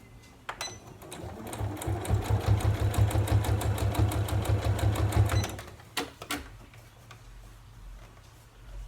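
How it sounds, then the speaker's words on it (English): A sewing machine runs through fabric in one steady burst of rapid, even needle ticks, loud and close, then stops; a few clicks and handling sounds follow in the quiet. "So I'm just going to sew, sections and stop"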